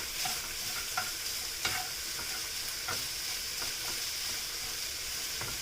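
Sausage browning in a frying pan: a steady close sizzle with scattered soft clicks and taps from utensils, no talking.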